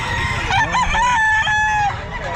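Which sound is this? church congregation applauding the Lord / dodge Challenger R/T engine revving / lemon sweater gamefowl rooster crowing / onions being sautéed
lemon sweater gamefowl rooster crowing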